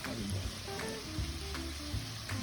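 Onions softening in a hot pan for tacos, a steady close sizzle and crackle with occasional soft stirring.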